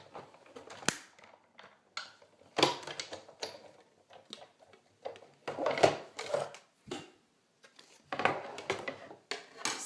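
A die cutting machine runs a fall pillow box tag through with an enlarging die shape, giving irregular bursts of cranking, clicking and rolling mechanical noise spread over several seconds, close and moderately loud with short pauses between.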